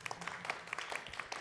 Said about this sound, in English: you were clapping because we're pausing